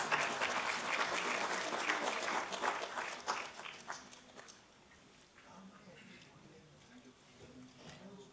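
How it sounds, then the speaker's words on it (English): Audience applause at a national business excellence awards ceremony in a large hall, dense clapping that is loud at first and then fades to scattered claps, with a voice speaking over the tail end. "Can we welcome sir with a huge round of applause"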